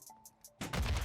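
Grenade exploding in water in Modern Warfare II, a sudden loud low burst after a few faint ticks, followed by a churning rumbling splash that fills the rest of the moment.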